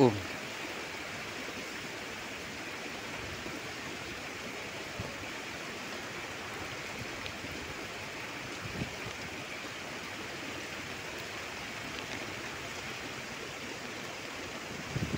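Heavy rain falls as a steady, even hiss of dense drops, constant and moderately distant, with no breaks across the whole stretch.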